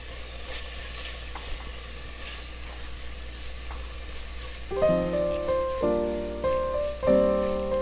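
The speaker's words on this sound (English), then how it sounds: "Let's mix those ingredients right now." A seafood mixture with red pimentos is stirred in a pot, giving a steady wet sizzle. Midway it turns into loud, rhythmic scraping strokes that repeat about once a second.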